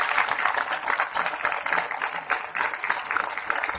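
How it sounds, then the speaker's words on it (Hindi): An audience at a Sahaja Yoga meditation program in Kolkata claps steadily, a dense, continuous patter of many hands with no voices over it. "जोरदार तालियों से"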